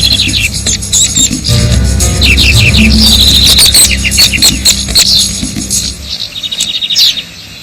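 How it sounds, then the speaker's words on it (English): Small birds call and chirp in bright, rapid bursts at a garden bird feeder in a British winter, with a nuthatch among them; busy overlapping calls over a low rumble, fading toward the end. "no one stands their ground like a nuthatch"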